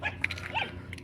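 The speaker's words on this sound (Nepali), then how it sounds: "यतातिर आउन कुकुरको डरले आउनै मन लाग्दैन, यस्तो कराइ छ है" A dog gives a few short, faint yelping barks with a whiny edge over a quiet background, all within about a second.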